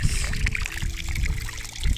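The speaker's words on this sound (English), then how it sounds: "the water is also leaking from the back. So this is pretty much getting filled up with water" Water trickling and sloshing into a LEGO amphibious vehicle as it fills up, a continuous low dribbling wash with faint splashes, steady and close, no talking.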